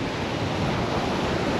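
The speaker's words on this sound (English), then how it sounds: "Anderby Creek, beautiful beach. But it does tend to get very windy down here" Strong wind and surf roar together at Anderby Creek beach, a loud, continuous wash of noise with wind buffeting the microphone.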